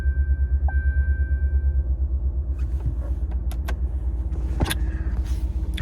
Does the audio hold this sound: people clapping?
no